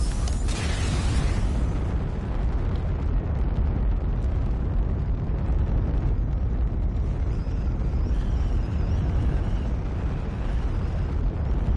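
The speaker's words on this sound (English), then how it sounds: "let's hit this rocket real quick" A rocket booster on a glider in the flight game UltraWings roars continuously, a loud, steady, rumbling thrust that opens with a brighter hissing burst and then holds a thick, unbroken low roar to the end.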